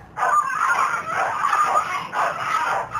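Several pit bulls in a backyard bark and whimper in close, continuous yips and cries that swell and dip for a few seconds.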